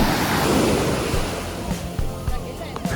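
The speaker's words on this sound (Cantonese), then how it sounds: "好大浪嘅。" Big sea waves crash and surge onto a Hainan Island beach in a loud, roaring wash, with gusty wind buffeting the microphone as the surf fades back.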